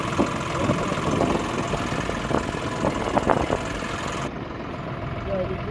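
A 4x4 tractor, a 5405, idles with a steady mid-low engine rumble that holds for several seconds. Faint voices can be heard over it.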